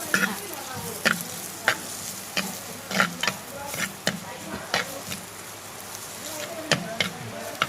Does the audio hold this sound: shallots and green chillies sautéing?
yes